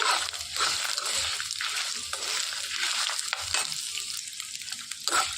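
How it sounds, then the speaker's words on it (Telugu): Finely chopped ginger pieces fry in oil, giving a constant close sizzle that swells and fades as they are stirred, broken by scraping and clattering. "సన్నగా తరిగి పెట్టుకున్న అల్లం ముక్కలు చక్కగా వేయించేసుకోవాలండి మాడిపోకుండా"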